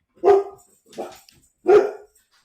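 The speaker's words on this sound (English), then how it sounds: "sorry, dog barking." A dog barks three times close by, sharp and loud, the second bark softer than the others, with no one talking.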